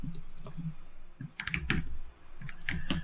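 Fingers typing on a computer keyboard, with quick irregular clusters of key clicks and short pauses between bursts, heard close and alone.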